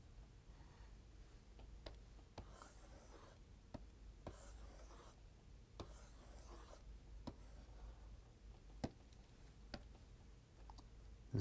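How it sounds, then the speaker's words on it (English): Pen strokes on paper come as faint, close scratching and scribbling, with sharp little ticks as the pen touches down, spread unevenly through a quiet room. "let me write this clearly"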